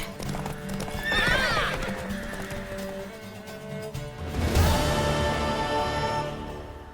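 A horse in The Witcher 3 gives two loud whinnies a few seconds apart over steady clip-clopping hooves, with game ambience behind and no talking.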